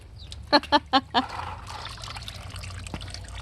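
Motor oil trickling and draining into a catch pan beneath an engine, a steady faint liquid stream with a few loud voice bursts near the start.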